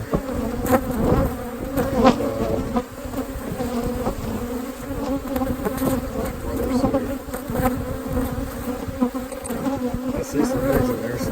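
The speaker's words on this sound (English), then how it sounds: "I've transferred, worked with some bees early this afternoon, most of the afternoon." Honey bees buzz steadily around an open hive being worked in the afternoon, a dense close swarm drone that holds through the whole stretch with shifting swells and no talk.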